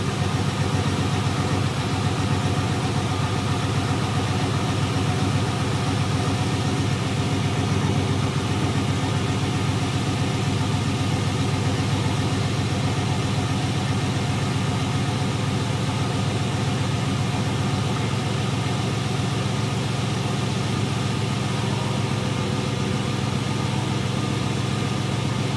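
A 1999 Chevy Blazer with a 4.3 engine idles steadily, a low, even rumble with a constant hum that holds at a moderately loud level and does not change for the whole stretch, with no voices over it.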